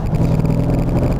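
The supercharged V8 of a 2004 Mercedes SL55 AMG revs loud and close, a deep, sustained rumbling roar with no gaps or speech over it.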